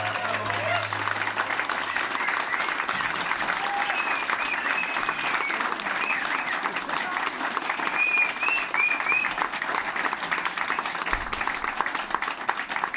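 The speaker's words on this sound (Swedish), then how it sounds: "Betyder den applåden att ni vill att jag ska sluta?" Sustained applause from an audience at a lunchtime performance event, dense steady clapping filling the whole stretch without letting up, with crowd noise blended in.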